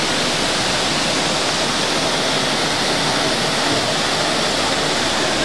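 A waterfall in Puerto Rico roars loudly and steadily, a dense unbroken rush of water with no other sounds and no talking.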